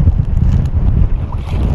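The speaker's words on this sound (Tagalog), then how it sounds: "lakas ng hangin" Strong wind blowing at sea, buffeting the microphone in a dense, low, roaring rush that stays loud and unbroken throughout.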